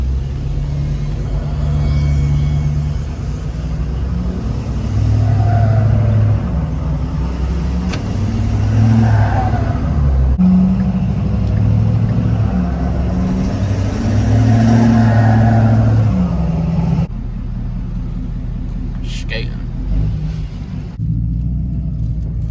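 A 9-foot-tall vehicle's engine drones and rumbles steadily while it is driven, rising and falling with acceleration, loud and close, with no talking.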